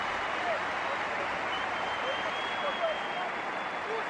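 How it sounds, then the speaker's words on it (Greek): Football stadium crowd at a Greek Super League match between Olympiakos Volou and Larisa applauding a substituted Slovak player, a continuous distant wash of clapping and crowd noise with faint whistles and a commentator speaking over it. "Χειροκρότημα για τον Σλοβάκο."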